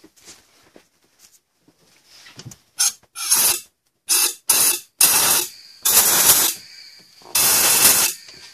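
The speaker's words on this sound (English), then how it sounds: "I just filled it up with carb cleaner, so hopefully I don't have to do this again." Aerosol carb cleaner blasts through the EGR passage of a 2007 Acura MDX in a series of six or seven loud hissing sprays, short bursts giving way to longer ones, with quiet gaps between them and no talk.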